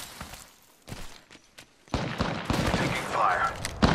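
Gunfire in the video game Apex Legends: a few sharp, scattered shots at first, then from about two seconds a denser, louder volley of rapid shots that keeps going.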